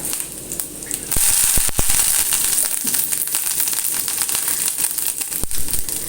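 Dried red chillies and curry leaves crackle and spit in hot oil as a tempering for apple pulissery: a dense, continuous sizzle with sharp pops scattered throughout, louder from the second onward, no voices.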